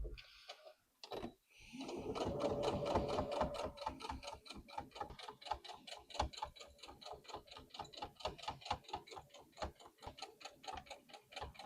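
Sewing machine stitching a tote bag: a fast, even run of mechanical needle strikes after a brief start-up, close and steady throughout with a slight rise and fall in pace.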